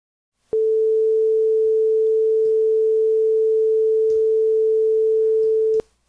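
Steady pure sine test tone from a homemade JUCE-built VST audio plugin, holding one constant pitch for about five seconds at a loud level, starting and stopping abruptly with faint clicks.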